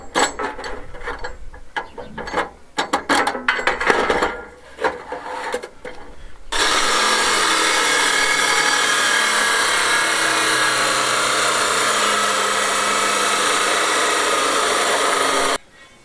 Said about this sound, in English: The next job is to cut the supports for the final panel.